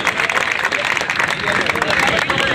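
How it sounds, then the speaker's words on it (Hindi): A crowd claps at a marathon prize ceremony in Karera, a short, dense burst of applause mixed with general crowd hubbub and murmuring voices in an outdoor gathering. "थोड़ा तालियों से इनका स्वागत किया जाए।"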